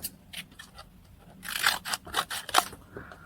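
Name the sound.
scissors cutting off a bit of a paperclip embellishment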